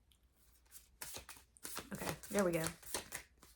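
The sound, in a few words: shuffling a deck of tarot cards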